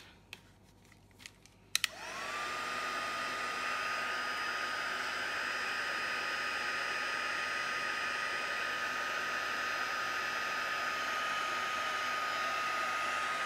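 A heat tool switches on after a few faint clicks and roars with a steady, close blowing hiss while melting clear embossing powder on cardstock, running alone for the rest of the stretch.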